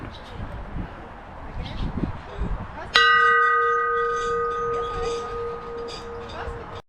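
A bell at a Buddhist temple struck once, ringing out with a clear sustained tone that slowly fades, preceded by quiet talk and outdoor ambience.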